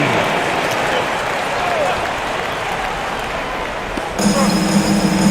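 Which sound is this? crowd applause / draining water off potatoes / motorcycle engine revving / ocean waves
crowd applause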